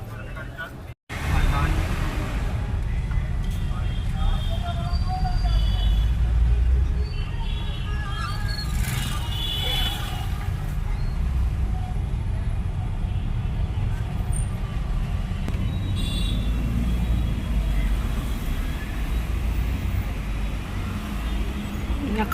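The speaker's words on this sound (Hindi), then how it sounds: "अब गाड़ी यहाँ रुक रही है क्योंकि आगे काफ़ी ट्रैफिक जाम हो रहा है।" Car halted in a market traffic jam during Diwali season, with a continuous roadway rumble of idling vehicles and passing traffic, occasional brake hiss and horns, and people talking throughout.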